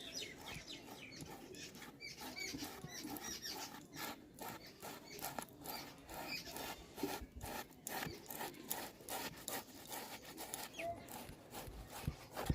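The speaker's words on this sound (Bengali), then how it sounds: "এরপরে কিন্তু আলুটাকে ঘষে নেব।" A potato being rubbed against a grater for a potato and egg kofta dish, a steady, fast scraping rasp of repeated strokes that runs continuously at moderate, close-up loudness.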